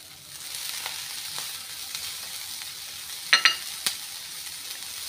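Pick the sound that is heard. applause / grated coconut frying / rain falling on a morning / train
grated coconut frying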